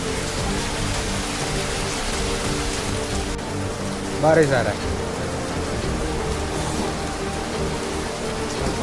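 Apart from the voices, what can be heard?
heavy rain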